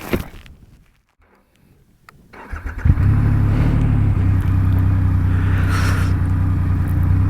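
A 2025 Triumph Rocket 3 Storm motorcycle starts up and pulls away, its deep engine rumble rising to a loud, steady roar close by after a brief quiet stretch.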